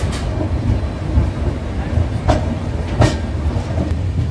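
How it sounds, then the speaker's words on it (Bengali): A passenger train stands halted at Kharagpur station, its steady low rumble and hiss filling the scene, with a couple of sharp metallic clanks and faint background voices. "এই দেখো পেছনে ট্রেন দাঁড়িয়ে আছে আমাদের,"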